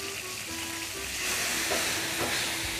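Cognac hits a hot pan while cooking stuffed quail and sizzles sharply, with a steady frying hiss that grows louder and fuller partway through, close up and without any talking.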